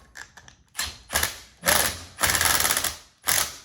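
Fasteners are tightened while a drill is mounted on a ratchet drill system, giving close mechanical ratcheting clicks in several bursts of rapid ticking separated by brief pauses.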